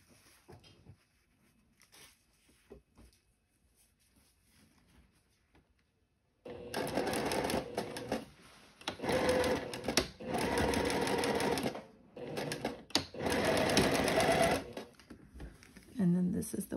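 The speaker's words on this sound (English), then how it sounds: "I'm sewing 1/2-inch seam allowance" A domestic sewing machine stitches a half-inch seam allowance on a floral sundress, running in several loud bursts with short pauses between them after a quiet opening.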